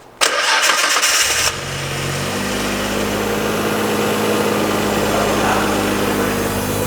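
A Nissan Skyline R33 GTR fitted with a titanium exhaust cranks briefly with a rapid whirring starter, then catches and settles into a loud, steady, deep idle close by.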